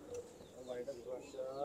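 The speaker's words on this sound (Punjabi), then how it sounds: "ਇਹ ਵੱਡਾ ਕਬੂਤਰ ਹੈ" A large pigeon coos in a series of low, wavering calls, close by, with voices talking faintly in the background.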